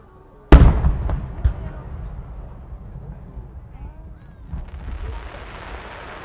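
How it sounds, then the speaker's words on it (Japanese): A single loud art-firework shell bursts into falling gold light, followed by crackling and a fading rushing hiss, with a second softer swell of hiss near the end, heard from a distance. "最後にザーッと音が出る花火です"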